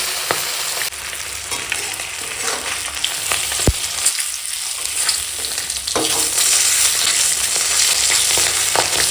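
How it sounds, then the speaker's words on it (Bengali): Catla fish head frying in hot oil in a home kitchen, giving a steady, loud, close sizzle with faint stirring scrapes throughout and no talking. "তো দেখো এখন মাথাটা ভাজা হয়ে গেছে"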